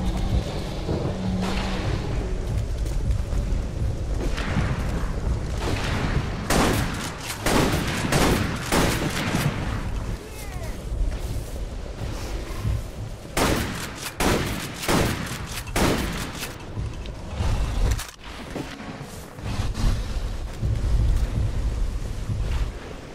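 Dense bursts of video game gunfire in Primal Carnage, a dinosaur shooter, loud and continuous with overlapping shots and rumbling blasts over a steady background.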